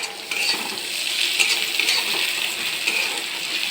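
Onions fry steadily in a pan, a continuous close sizzle with scattered light stirring clinks against the metal, no voices.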